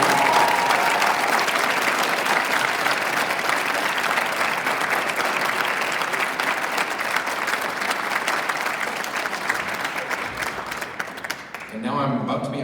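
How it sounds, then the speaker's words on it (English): A crowd at an aldermanic candidates forum applauds and cheers continuously for several seconds, dense clapping with whoops throughout, tapering off at the very end. "I would have a minute where we could just cheer and hoot and holler and do whatever else"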